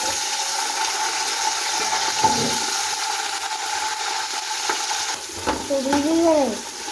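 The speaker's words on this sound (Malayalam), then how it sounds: "ചൂടായി നമുക്ക് വെളിച്ചെണ്ണ വെച്ചെടുക്കാം. ഇനി നമുക്ക് ഇതിലേക്ക് കോളിഫ്ലവർ ഇട്ടെടുക്കാം." Cauliflower frying in hot coconut oil in a home kitchen, giving a steady, close sizzle and hiss with a brief warbling tone near the end.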